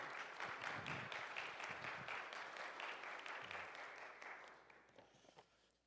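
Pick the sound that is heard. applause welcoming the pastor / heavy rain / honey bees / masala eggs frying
applause welcoming the pastor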